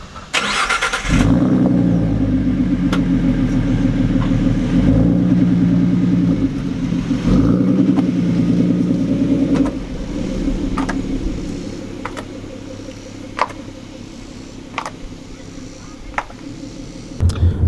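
A car with a low, flat tire drives toward a tire shop, hazards on; a steady engine drone and road rumble fill the cabin, with faint ticking and small knocks over the hum.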